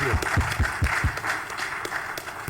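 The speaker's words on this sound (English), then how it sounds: "A round of applause" Audience at a panel session with President Julius Maada Bio and Hafez Ghanem giving a brief round of applause, moderate clapping with a few heavier thumps early on, then fading into a softer patter.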